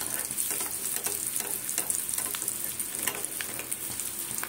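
Egg chops shallow-frying in oil in a pan, a continuous close sizzle dotted with small crackles and pops, no speech over it.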